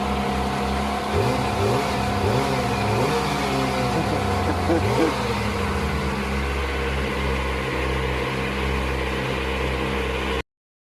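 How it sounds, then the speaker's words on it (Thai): A Kawasaki ZX25R motorcycle on its old stock exhaust revs loudly close by, rising and falling engine tones with a few throttle blips over a steady idle drone, then cutting off at the end. "ฟังเสียงท่อเก่าไปก่อน"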